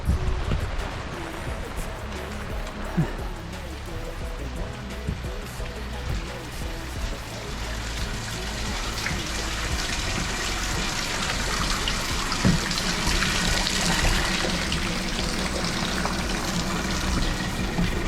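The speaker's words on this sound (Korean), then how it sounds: "일단 배에 물기를 빼고 있거든요 아, 아 이거 일단 퍼내야겠다" Water is scooped and bailed out of a boat on a rainy day at a camping spot, with continuous dense splashing and rain hiss at close range and no clear gaps.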